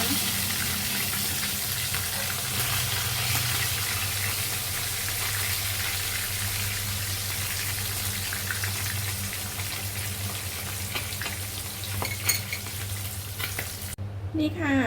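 Mackerel sizzles steadily in hot oil in a pan as the fish is turned and fried until crisp and fragrant, a continuous close crackle with a low hum beneath and a brief clatter near the end.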